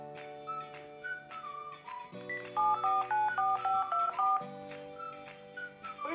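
Touch-tone telephone keypad dialing: a series of steady DTMF tones, with a quick burst of short evenly spaced beeps in the middle, fairly loud and clear with no talking.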